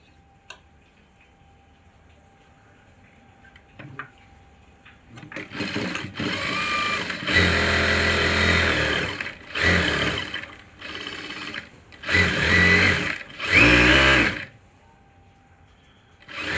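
Sewing machine stitching the side seam of a chudidar, quiet at first, then several loud rapid whirring bursts of stitching separated by short pauses.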